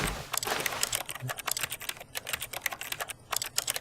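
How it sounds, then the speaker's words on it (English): Rapid keyboard key presses in The Stanley Parable, a dense run of close, crisp clicks in irregular bursts with brief pauses, no talk over them. "Push on the keyboard"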